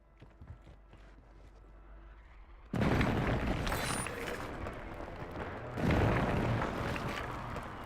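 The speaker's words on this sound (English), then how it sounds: "Hostile airstrike near your location." Airstrike explosions in a video game, two heavy booming blasts with rumbling debris, the second following a few seconds after the first, loud and close over a quieter mechanical background.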